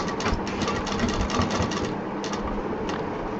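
A sewing machine stitches through a doubled layer of handbag material with foam, giving a close, steady rapid mechanical chatter that runs continuously and eases slightly toward the end.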